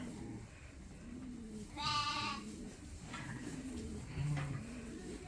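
Farm sheep and lambs bleat in a barn pen, several separate wavering calls rising over a low rumbling background, one loud and near, the others fainter.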